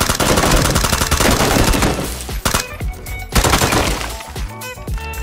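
Gunfire in the battle royale game PUBG, with loud, dense bursts of rapid automatic shots and sharp cracks that pause briefly and then resume.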